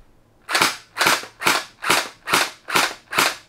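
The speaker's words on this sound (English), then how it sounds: "I'm gonna shoot at the wall." Splatrball gel blaster toy gun fires seven sharp, evenly spaced shots in a steady rhythm, loud and close, with Orbeez gel balls hitting a wall.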